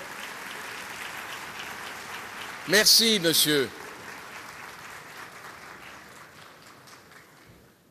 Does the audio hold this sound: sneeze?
no